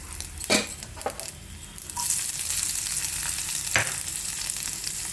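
Sliced onions dropped into hot oil already tempered with mustard seeds and urad dal, bursting into a loud, steady sizzle with a few stirring scrapes and clinks, the frying settling into a constant hiss after a couple of seconds.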